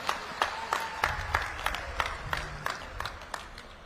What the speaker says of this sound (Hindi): एक बार जोरदार ताली बजा के अभिनंदन और स्वागत करें